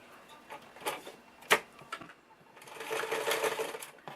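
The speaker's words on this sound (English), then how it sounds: "Now we're going to sew this together." A sewing machine sews a half-inch seam on a fabric wine gift bag, starting with a few separate clicks and short bursts and then settling into a steady run of stitching. The sound is close but fairly quiet.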